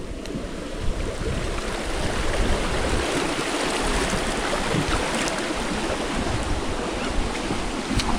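Rushing water at Pagsanjan Falls in Laguna, a loud, unbroken broadband roar of churning flow with faint wind buffeting, steady throughout with no voices.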